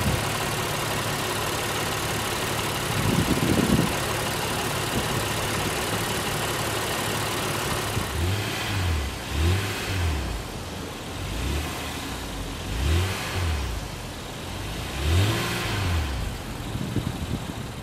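A 2020 Honda Passport's 3.5-liter V6 idles steadily, then revs several times in short rising and falling bursts, close and fairly loud with no talking.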